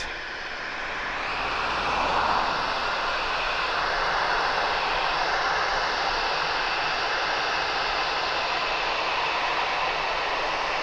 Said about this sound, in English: What a beautiful aircraft.